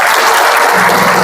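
A church congregation bursts into dense, loud applause during a sermon, a brief continuous wash of clapping with no voice over it.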